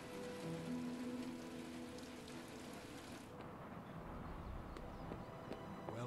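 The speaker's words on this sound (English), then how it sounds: "Is it raining? Oh, it is." Soft, steady rain patter in Marvel's Midnight Suns, heard faintly as a continuous hiss under the game's ambient music and effects.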